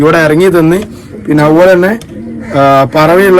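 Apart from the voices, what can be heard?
None of the usual background noises is heard.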